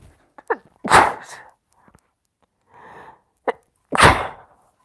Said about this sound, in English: Wow, that sneeze came out of nowhere